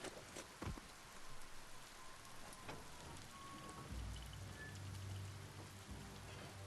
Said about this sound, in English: I like it when it rains in this game.